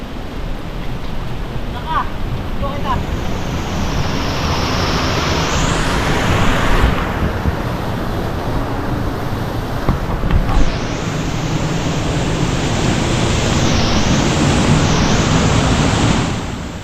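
A river flowing beside a forest trail in Lobo, Batangas, heard as a steady broadband rush of water, with bike wind noise and brief snatches of speech over it.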